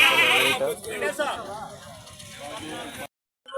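Goats bleat at the busy Punganur livestock market, with a few wavering calls close by among chatter, clatter and crowd noise.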